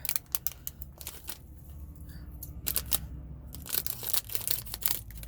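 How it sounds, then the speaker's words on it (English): Several sharp snipping clicks and crinkling plastic sounds come in bursts, like scissors cutting through a snack wrapper, close and fairly loud. "I have to get my scissors here."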